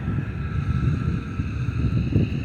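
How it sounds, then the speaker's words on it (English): Gusty wind buffets an outdoor microphone in a steady low rumble with surging swells, recorded beside two Oliver 160 gravity tables; no talk is heard. "I'll have to apologize for the wind today."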